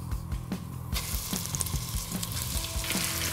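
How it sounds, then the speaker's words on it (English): Meat frying in hot olive oil in a pan for Texan-style chilli, with a steady close sizzle and crackle interrupted by occasional stirring or scraping sounds. "Now the oil is now hot enough to stick this meat in."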